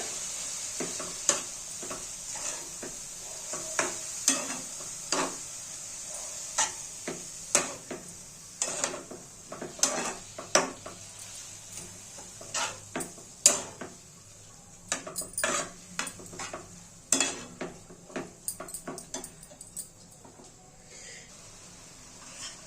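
Moong dal is stirred into a vegetable dish of chivli greens in a pan with a steady run of sharp spoon clinks and scrapes against the metal over a soft, constant sizzle.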